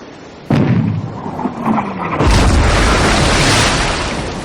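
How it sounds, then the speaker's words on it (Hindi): A ship's cannon fires with a sudden heavy boom, followed by a rushing, roaring blast that swells and lingers before slowly fading. "तोप चलाई गई"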